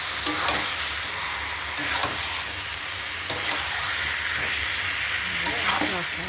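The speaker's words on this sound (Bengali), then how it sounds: "ভালো করে মশলাটা ভাজা না হলে ভালো লাগবে" Spice masala with turmeric and chilli powder frying in a pan for egg curry, a dense steady sizzle broken by periodic scraping stirs about every second or two, close up and without speech.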